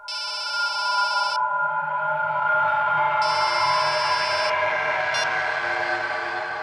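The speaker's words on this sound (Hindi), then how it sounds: "मैडम आपका फोन बज रहा है।" A phone rings in repeated electronic trilling bursts, two long rings with a pause between, over a steady droning background.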